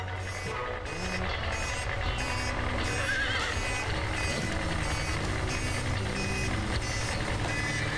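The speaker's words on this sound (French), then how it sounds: "Je ne veux pas entendre le bip-bip des camions, mais le tagada-tagada des chevaux." A horse whinnies over a constant backdrop of truck engine rumble and steady, repeating reversing beeps, with hooves clopping faintly throughout; from an animated cartoon.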